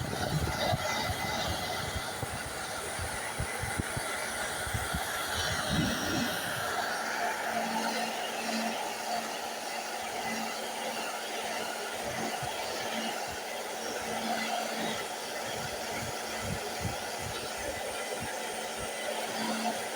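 A hair dryer drying paint, burnt sienna among the colours, at a Fourth of July art session, blows as a steady broad whoosh for the whole stretch, with some low rumbling thumps early on.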